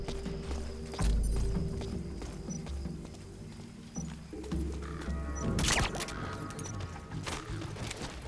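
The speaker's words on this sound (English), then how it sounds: "I hear footsteps" Footsteps in Metal Gear Solid 5 The Phantom Pain, a soft uneven run of steps under game ambience with a sharp louder hit midway.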